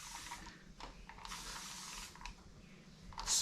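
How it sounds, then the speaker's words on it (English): A spray bottle mists water around the perimeter of natural hair during a wash-day afro styling session. Several soft, breathy hissing bursts come close to the microphone at irregular intervals. "Spray the perimeter all the way around."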